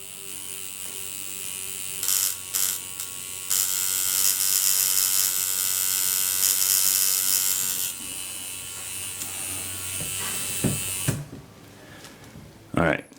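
A tattoo machine buzzes steadily and close, its whine climbing as it is turned up until it kicks on, then dropping and stuttering near the end as someone talks over it.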